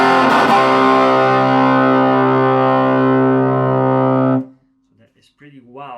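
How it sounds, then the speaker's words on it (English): A loud, fuzzy distorted chord from a 1959 Gibson Les Paul Junior DC with P90 pickup through a cranked, modded Champion 600 amp, ringing about four seconds before being cut off, followed by a few quiet string noises. "it makes fuzzy tones if you do chord style playing"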